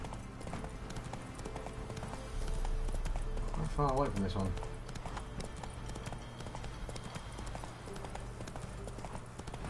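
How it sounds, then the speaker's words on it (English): Horse hooves clip-clop steadily in the video game Witcher 3: Wild Hunt, a rhythmic trot under game music while someone talks over it, with a brief horse snort midway. "Now I think the horse will follow the path."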